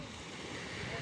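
Gentle sea waves wash and rustle at a crowded beach in Odesa, with a steady breeze hissing across the microphone; a short, faint, continuous wash with no distinct breaking crash.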